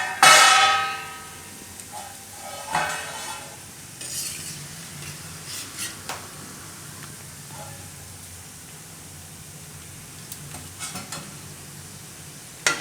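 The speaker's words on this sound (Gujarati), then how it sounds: "આ રીતના આપણે બધાય તળી લઈશું" Mixed dal vada fritters frying in hot oil, with a bright sizzle at the start, then settling into a soft, steady bubbling under occasional stirring clinks.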